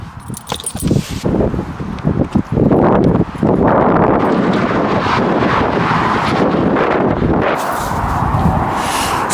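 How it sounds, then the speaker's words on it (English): Strong wind on top of a bridge over a motorway buffets the microphone in loud, continuous roaring gusts, with a few rustles and clicks early on. "Pretty windy here now, up on top of the bridge."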